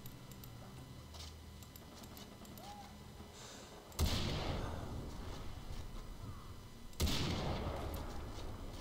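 Gunfire in the Far Cry 3 video game: two loud booming shots, evenly spaced, each trailing into a long rumbling decay over faint background ambience.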